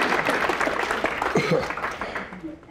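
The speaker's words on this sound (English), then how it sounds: "So give Richard Clark a round of applause." A crowd claps in a brief burst of applause at a hypnosis conference keynote while a voice speaks over it, the clapping fading toward the end.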